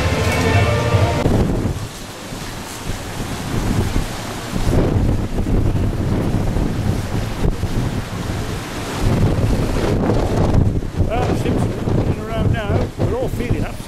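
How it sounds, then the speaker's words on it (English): Strong wind gusting at sea with rough waves and surf, roaring loudly and steadily with buffeting mic noise; faint voices can be made out beneath the din. "there's a high wind, speed up to 80 miles"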